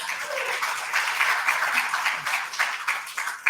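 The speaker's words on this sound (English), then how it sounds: "let's give them a big round of applause" Audience applause for the church music band at Riverside Center for Spiritual Living, a steady, dense wash of many hands clapping throughout, fairly close and even with small swells, no talking.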